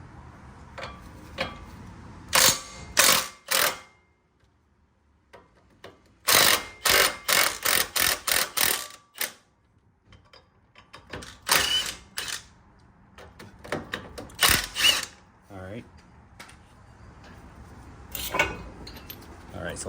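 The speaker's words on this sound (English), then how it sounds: "I'll just use my Milwaukee impact right here." Milwaukee impact wrench removing Silverado brake parts, repeated loud rattling bursts in short clusters, close up, with quieter gaps and some talk between them.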